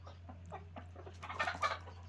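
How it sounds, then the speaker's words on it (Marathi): A few soft clucks from chickens nearby, quiet and brief, over a steady low hum. "रोनक बाकीच्या कोंबड्या कुठं गेल्या"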